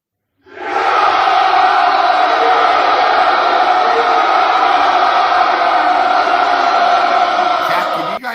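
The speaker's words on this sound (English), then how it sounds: "Here's the crowd." Recorded crowd cheering played back, a loud sustained roar of many voices that swells in abruptly and holds steady for several seconds before cutting off.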